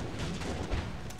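Cannon artillery fire in Empire: Total War with the Darthmod battle mod: a dense, continuous roar of distant booms with one heavier thud partway through, and no talking.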